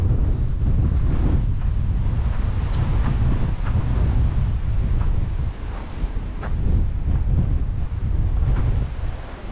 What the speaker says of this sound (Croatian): Vjetar, kao što se vidi, vjerojatno čuje,